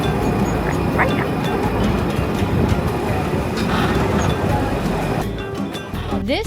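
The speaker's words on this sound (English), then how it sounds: "This historic yellow tram makes its way across the iconic Aqueduct and into the bohemian hills of Santa Teresa" Historic yellow tram crossing the Aqueduct into the Santa Teresa hills of Rio de Janeiro, a steady loud rumble of rail wheels with faint clatter and brief squeals, passengers talking over the noise throughout.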